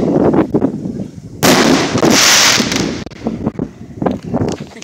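Fireworks launching and bursting in a fireworks video game at a dock, a loud roaring blast followed by crackling pops, with a voice speaking over parts of it.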